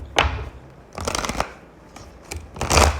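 A deck of tarot cards being shuffled by hand, three separate riffling bursts close to the microphone with brief quiet gaps between them, no talking.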